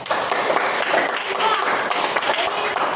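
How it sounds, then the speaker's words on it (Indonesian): Classroom of students clapping together at a teacher's prompt, a dense patter of many hands filling the room, fairly loud and steady throughout with faint voices mixed in. "Tepuk tangan dulu untuk dikasih."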